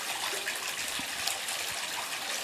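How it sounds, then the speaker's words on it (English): A small pump-fed waterfall on the lower part of a Santa Fe, New Mexico garden pond splashes in a steady, close, continuous wash of falling water. "This water feature on the lower portion has its own little waterfall fed with a different feed from the pump housing"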